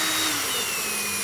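Power drill spinning a brushless drone motor from an HGLRC Arrow 3 quad that fell from the sky, checked for a bent shaft: a steady, close, whirring whine held throughout with no talk.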